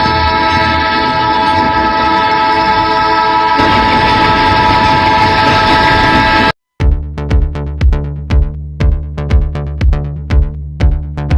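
A train passes at close range, first a loud sustained horn blast, then after a brief gap a fast, regular clickety-clack of wheels over rail joints as the cars roll by, no voices.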